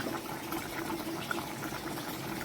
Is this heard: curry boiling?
yes